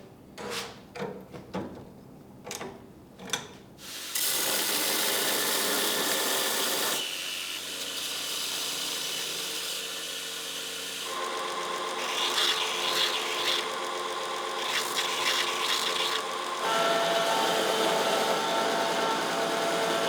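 A grinder works metal on a handmade Viking sword, starting after a few knocks with a loud, continuous abrasive whine that shifts pitch as the blade is ground.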